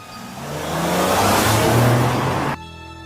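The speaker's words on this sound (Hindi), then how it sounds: "उसके बाद फिर गुल्ली बहुत तेज गाड़ी चलाने लगता है।" A car speeds past fast, its engine note swelling to a loud, close roar before cutting off abruptly near the end.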